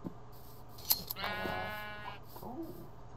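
A video game sheep lets out a clear, drawn-out bleat with a wavering tone, loud and close, preceded by a couple of brief clicks, with no one talking over it.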